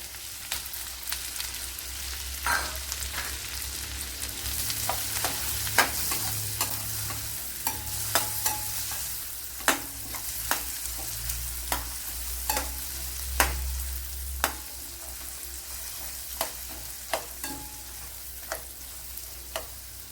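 Onion and carrot stir-fried in a pan for vegetable instant noodles: a steady sizzle under repeated sharp scrapes and clacks of a spatula, close and fairly quiet, with no talking.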